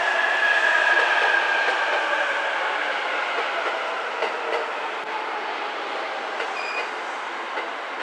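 A Keihin-Tohoku commuter train pulls away from Ueno toward Omiya, a sustained rail rumble with a thin high wheel squeal near the start, the roar gradually easing and fading over several seconds without any talk.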